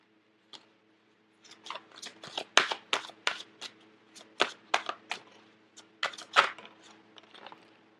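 Tarot advice cards being shuffled and drawn, a close series of crisp riffling snaps and slaps in quick irregular bursts after a single soft tap, with no talking.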